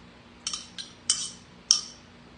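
Utensil clinks against a bowl while creamed eggs are mixed into corned beef hash, a few short separate scraping taps with pauses between them, close and fairly quiet.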